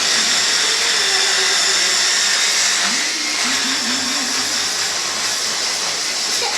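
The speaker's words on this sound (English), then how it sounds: "All I need now is to give it a good old whisk for us." An electric whisk whirs loudly and steadily through Thai red curry paste, its motor pitch wavering as it churns the thick mixture, with no talking.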